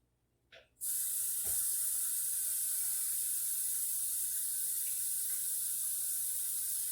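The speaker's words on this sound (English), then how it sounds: "Get a little bit more water in here." Water gushes steadily from a tap after a brief click, a loud continuous hiss with no talking.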